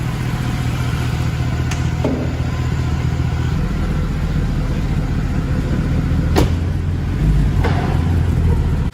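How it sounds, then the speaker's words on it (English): A Mercedes C63 (W204) V8 engine runs steadily and loudly while spitting out water, with a few sharp clanks and knocks cutting through the rumble. "Bit of a knocking noise then."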